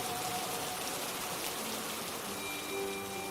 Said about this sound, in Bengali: এমন সময় আচমকা বৃষ্টির গতি বাড়ল।